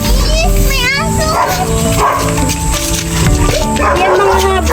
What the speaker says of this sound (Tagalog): German Shepherd.